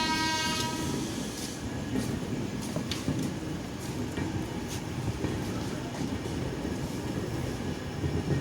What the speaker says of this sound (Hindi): और ये अपनी ट्रेन निकल गई वर्धमान से।